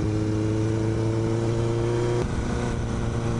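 A Kawasaki motorcycle engine hums steadily while the bike is ridden, with a droning tone that shifts pitch partway through, as if changing gear.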